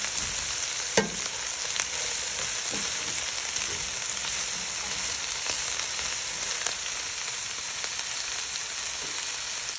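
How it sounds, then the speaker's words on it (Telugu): Shredded cabbage and moong dal sizzle steadily in a pan, a constant bright hiss with a few faint scrapes of stirring. "అలాగే ఒక టూ మినిట్స్ పాటు వేగనివ్వాలి తర్వాత దీన్ని మొత్తం బాగా కలిపేసుకోవాలి"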